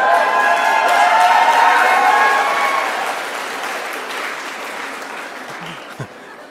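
A conference audience claps and cheers for Canadians, loud dense applause for about three seconds that gradually thins and fades, ending with a brief sharp sound.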